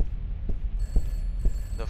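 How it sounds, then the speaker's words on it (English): A telephone rings inside a Backrooms-style video game, a faint high electronic tone entering partway through, while low periodic thumps pulse underneath about every half second. "The phone's ringing."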